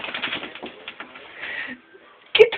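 A pet cockatiel pecks and scrabbles at its reflection in a mirror, making a quick flurry of close, sharp taps and scratchy chirps that fade into quiet before one loud squawk at the end.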